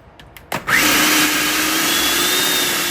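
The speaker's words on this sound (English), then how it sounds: "I transfer the peas into the food processor. Now I'm going to go ahead and blend this until it's nice and smooth." A food processor grinds peas into a smooth paste for Guyanese dhal puri, starting after a few soft knocks, then whirring loud and steady with a high motor whine that holds to the end.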